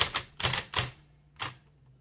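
A 1914 Blickensderfer Aluminum Featherweight typewriter gives about five sharp, close keystrokes in an uneven rhythm, with short quiet gaps between them.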